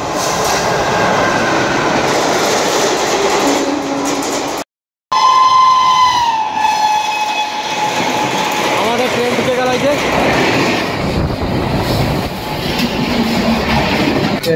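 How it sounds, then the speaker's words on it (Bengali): A local train rolls along the rails near Asansol, a loud continuous rumble with clattering wheels and a whistle-like squeal partway through; a voice is briefly heard. "তো অলরেডি আমরা ট্রেনে চেপে পড়েছি। তা বর্তমান চেপেছি আমরা লোকাল ট্রেনে"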